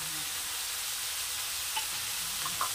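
Peas and carrots sautéing with salt in a pan for rava upma, a soft, steady sizzle with faint stirring scrapes and a couple of small spatula clinks near the end, no talking.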